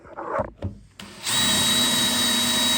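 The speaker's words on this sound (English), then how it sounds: "And then we're going to take our drill," A handheld power drill bores pilot holes into a wooden stair for stair rod fittings: a few faint knocks and rustles, then a steady, close, high-pitched whirring spin that runs to the end without speech.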